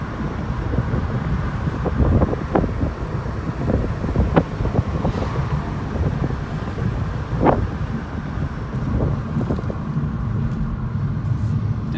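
A Volkswagen GTI engine under way on the road, with a steady low rumble and road noise that continues throughout, partly masked by wind buffeting on the microphone.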